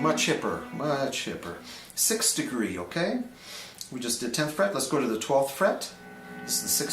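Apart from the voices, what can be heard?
No distinct noise like a dog, phone or traffic.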